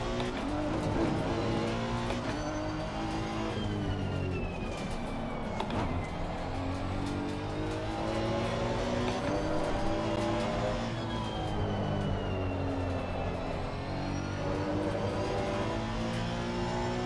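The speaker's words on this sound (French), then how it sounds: "j'aime vraiment le bruit du moteur" Race car engine in the Assetto Corsa Competizione racing game, loud and continuous, with revs climbing and dropping through gear changes and occasional tire squeal, no talk over it.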